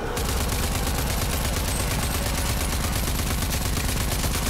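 Rapid, loud, continuous automatic gunfire from the video game RAGE 2 fills the whole stretch as a dense, unbroken burst of shots.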